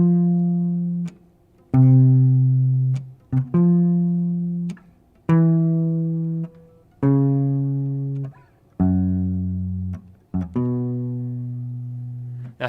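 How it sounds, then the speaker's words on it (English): A bass guitar plays the chord roots of a turnaround from a song as a slow sequence of single low notes, each plucked and sustained about a second before the next, with brief gaps between them. "So the bass would sound like this."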